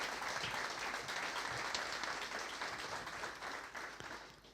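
Steady applause from an audience at an anniversary event, honoring the technical team; dense clapping fills the room at even strength and eases off slightly toward the end.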